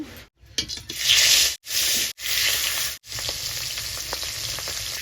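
Fish frying in hot oil in a home kitchen gives a steady, loud sizzle and crackle that swells and breaks off in short gaps, close by and with no voices over it.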